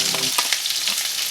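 Potatoes and celery sizzle loudly in a lamb stew pan still coated with lamb drippings, a steady close frying hiss with a brief clatter of stirring near the start, no voices.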